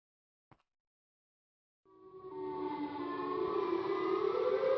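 The Siren Head creature in the Minecraft video game lets out a loud, wailing civil-defense-style siren that starts after a moment of silence and swells steadily, sustained to the end.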